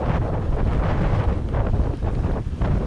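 Crosswind buffets the microphone on a gravel road during a cycling trip, a steady loud low roar of wind noise with gusty swells and no voices.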